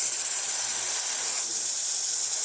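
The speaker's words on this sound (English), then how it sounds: "Nice strong steam." A La Marzocco GS3 espresso machine's steam wand gives a strong, steady hiss of steam, loud and close, unbroken for the whole moment.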